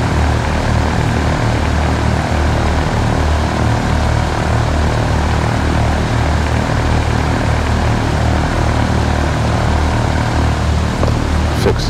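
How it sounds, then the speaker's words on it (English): A simulated single propeller aircraft engine idles at about 1000 rpm during warm-up in X-Plane, a steady, loud, droning hum with throbbing low pulses, unbroken throughout. "we're gonna let our engine warm up a little bit there"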